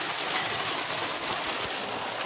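Steady, dense rain from a passing storm at an outdoor fireworks event in Norfolk, Connecticut, hisses evenly and continuously, close and fairly loud, with no other sounds standing out.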